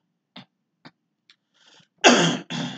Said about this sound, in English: Sorry for coughing.